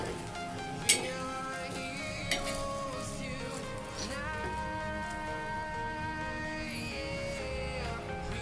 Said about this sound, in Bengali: এটা একটুখানির জন্য এরকম হালকা করে ভেজে নেওয়া হবে।